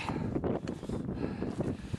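Footsteps crunching down over loose stones and scree on a high mountain glacier trail, steady irregular scuffs close to the microphone with light wind noise behind.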